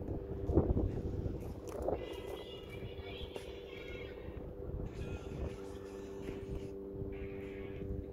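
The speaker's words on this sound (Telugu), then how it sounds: "గాలి అయితే ఫుల్గా తోలుతుంది" Strong wind buffeting a microphone high up on a tall high-rise building, a steady rushing roar across the whole clip with gusty swells, and brief bursts of other noise over it.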